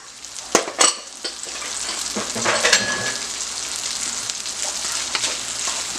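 Onions, garlic and ginger sauté in a pan for Chinese-style pepper steak, giving a close, steady sizzle with a couple of sharp utensil clacks early on.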